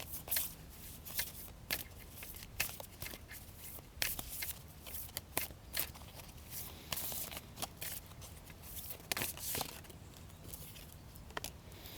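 Oracle cards shuffled by hand, rapid riffling bursts and soft slaps repeating in an irregular rhythm, close and quiet, no voices.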